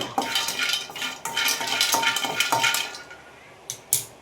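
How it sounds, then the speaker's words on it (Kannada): Almonds roast in a pan for jackfruit seed laddu, with a utensil scraping and clinking against the metal in repeated stirring strokes, close and fairly loud, then a couple of final taps. "ನೆಕ್ಸ್ಟು ಬಾದಾಮ್ ಹುರ್ಕೊಳ್ತಾ ಇದ್ದೀನಿ"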